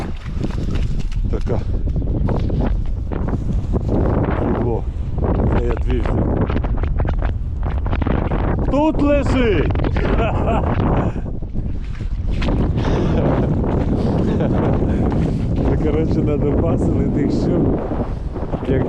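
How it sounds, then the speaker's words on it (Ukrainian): Strong, steady wind buffets the microphone throughout on a fishing trip, a broad constant roar with water sloshing and someone talking intermittently over it. "Вітер падає. Чуєте, який дує?"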